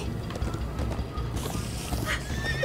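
Horse hooves clip-clop at a gallop with a whinnying neigh in the Minecraft Story Mode video game, a steady close rhythm over a low rumbling game soundtrack.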